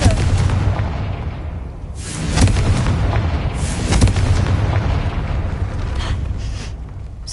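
Booming blasts from the Confringo fire spell in Hogwarts Legacy, several heavy explosive bursts over a rumbling background, loud and close with no talk.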